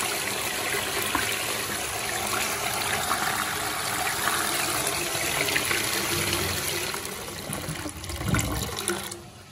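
A rimless toilet with a wall-hung installation flushes after its button is pressed, giving a steady, loud rush of water for most of the clip, with a swell and gurgle of draining near the end.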